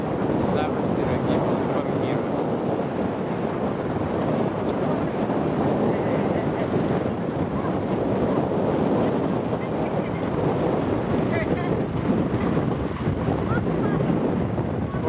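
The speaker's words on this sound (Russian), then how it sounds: "О, ветерок легкий." Light breeze buffets the microphone outdoors in Marseille, a steady broadband wind rumble running the full length with no pauses, loud and close, while faint street and water sounds sit underneath.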